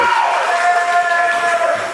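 An independent wrestling crowd roars and cheers at a Championship District Wrestling show, a loud, sustained wall of shouting and whooping that holds for two seconds.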